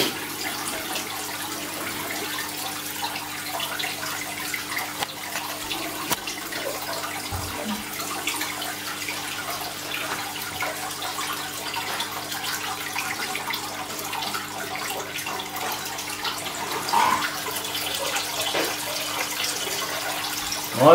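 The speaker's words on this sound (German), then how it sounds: "So ein Wasserwechsel dauert natürlich eine Weile, ne?" Water sloshing and trickling steadily for a long stretch during an aquarium water change with a bucket, a continuous moderate wet wash with small splashes and clunks, no speech.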